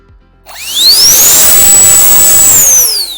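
A small portable rechargeable air blower spins up with a rising whine, then holds a steady, loud high-pitched jet-like roar for a few seconds before the pitch dips as it winds down.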